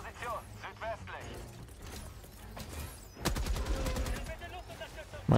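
Gunfire in the video game Helldivers 2: repeated bursts of rapid shots, with a loud stretch of automatic fire in the second half, heard under and alongside a player talking.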